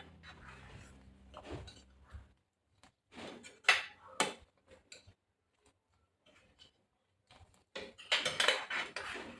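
A metal spoon stirring boiling Maharashtrian amti curry in a pot, giving faint scattered clinks and scrapes against the pot with quiet gaps between them, near and soft.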